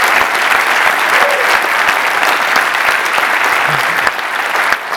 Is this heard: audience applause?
yes